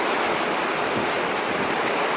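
Heavy rain pours down on a backroad between Agusan del Sur and Wao, Lanao del Sur, in a dense, steady hiss that fills the whole moment, loud and close, with no voices.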